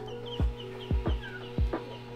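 Chickens cluck nearby in a series of four low, throaty calls at a steady rhythm, over a constant mechanical hum.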